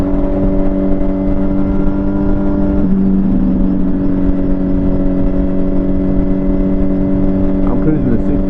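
A 2007 Kawasaki Ninja motorcycle cruising steadily on the highway in sixth gear at about 6,000 RPM, a constant loud engine drone with wind noise throughout and a slight shift in tone partway through.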